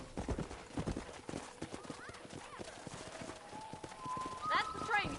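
Horse hooves galloping in the Western video game Red Dead Redemption, a steady rapid clip-clop under music and game sounds, with a horse whinny near the end.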